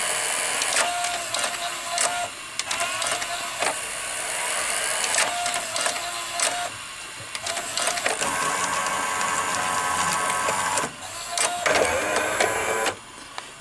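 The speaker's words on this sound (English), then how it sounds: "if I press play or fast forward rewind, this motor will turn" The motor and gear mechanism of a 1984 Toshiba V-M42C Beta VCR whir and click close up, running in repeated bursts separated by short pauses as modes switch between play, stop and fast forward.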